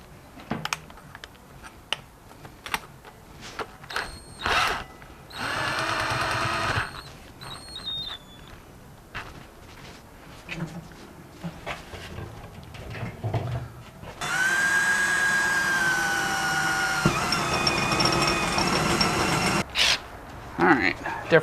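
A power drill whirs in bursts of several seconds, the longest near the end, with clicks, knocks and brief talk between runs.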